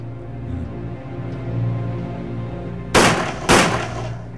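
Two loud, close gunshots at a shooting training range, about half a second apart, cracking sharply over a steady low hum.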